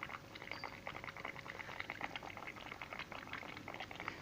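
An air-pump-driven aquarium filter bubbles softly in a tank of water, a steady fine gurgle of rising air with small irregular pops, faint and continuous throughout.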